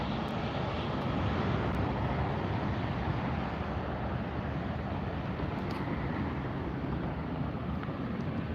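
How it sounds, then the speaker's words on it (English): An Airbus A380-900 on ITA Flight 621 to Rome departing from LAX: a continuous, loud, broadband jet engine roar that holds steady throughout, mixed with wind noise on the microphone. "Next departure is the Airbus A380 900 series, the ITA Flight 621 departing to Rome."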